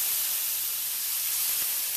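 White wine poured into a hot pan on a gas flame hisses and sizzles loudly and steadily. Close, broadband steam hisses without a break.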